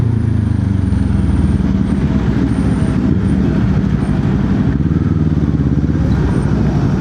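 A Kawasaki Z400 motorcycle ridden along the road gives a loud, steady engine drone mixed with rushing wind and tyre noise, continuous and unbroken throughout.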